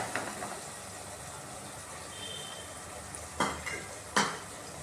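A tomato goes into a pan of oil and mixed vegetables and gets stirred, with a low background sizzle and a few sharp metallic scrapes and clinks of the spoon against the pan near the end.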